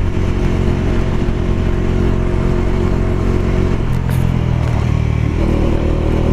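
A Bajaj Dominar 400 motorcycle rumbles loudly and steadily while being ridden, its engine droning close with a brief rise and shift in pitch partway through.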